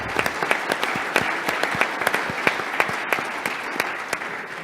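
Audience applause at an energy summit's opening session for honors students, a steady wash of clapping with distinct individual claps popping out close by, continuous and without talk.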